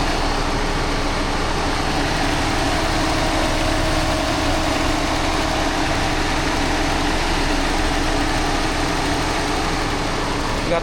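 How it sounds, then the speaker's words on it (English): Engine of a 2020 BMW X3 idling after a new alternator install, a steady even hum with no change throughout, close and loud. "The car sounds normal, so good."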